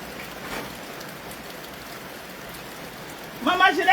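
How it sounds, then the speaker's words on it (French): Steady rain falls indoors-adjacent in a hot room in Africa, a constant soft hiss of drops on surfaces throughout, with a brief noisy rustle or voice at the very end. "Il pleut"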